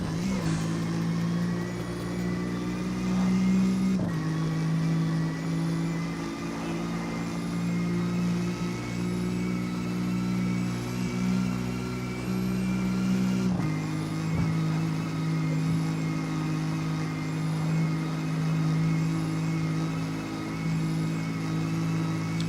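A car engine in the street-racing game CarX Street drones steadily and loudly throughout, holding a near-constant rev with two brief dips where the pitch shifts, like gear changes.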